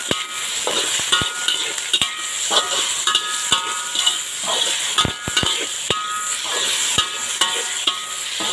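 Sautéed okra is stirred in a hot pan. A steady loud sizzle runs throughout, broken by sharp, irregular clicks and scrapes of the utensil against the pan.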